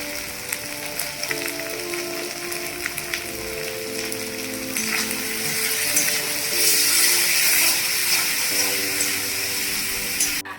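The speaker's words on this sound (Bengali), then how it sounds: "মশলার মধ্যে আমি হলুদ দিয়ে দিচ্ছি পরিমাণ মতো আর লবণ ভালো করে ভেজে নেব" Turmeric and salt frying with spices in a pan for a rohu fish curry with papaya, a steady broadband hiss that swells louder midway, with faint clinks over a low background hum.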